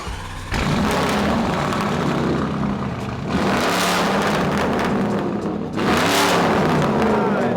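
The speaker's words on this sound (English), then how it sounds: "it's like the best Italian exhaust there is. So cameraman, you should check this out." A Lamborghini Performante fitted with an Italian aftermarket exhaust revs hard and loud close by, three surging bursts of engine roar with brief dips between them.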